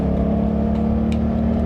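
A Suzuki GSX-8TT modern-retro middleweight motorcycle's engine drones loud and steady while riding, with a strong, even low tone and wind noise throughout.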